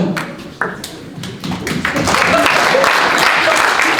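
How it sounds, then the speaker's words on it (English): An audience at an executive candidates Q&A begins with scattered individual claps that build into a full, loud burst of applause, sustained to the end. "Thanks for all the applause"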